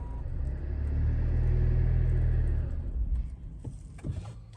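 A Range Rover Evoque 2.2 SD4 diesel starts up after a fuel filter change, giving a deep steady rumble that settles and then drops away, followed by faint clicks and ticks nearby.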